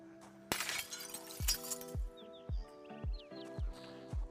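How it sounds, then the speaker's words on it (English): Glass shattering as a window pane is removed in the Project Zomboid zombie survival game: one loud crash, then a string of sharp, regular clinking hits with faint chirps in the background. "It usually makes a good amount of noise when you remove glass"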